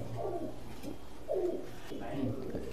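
Pigeons coo softly in a high-flying pigeon loft, repeated low rolling coos at a steady pace, with someone talking faintly in the background.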